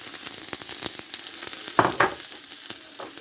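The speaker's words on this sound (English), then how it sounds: "This is the oil in the wok. Heat up. First of all, I will fry the carrot" Carrots frying in hot oil in a wok, a steady bright sizzle close by with sharp crackles and stirring scrapes, a couple of louder bursts partway through.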